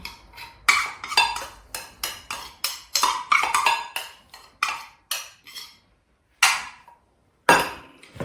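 Hake pieces and crushed garlic stirred together in a bowl, a utensil clinking and scraping against the dish in quick irregular bursts separated by short pauses, close and fairly loud.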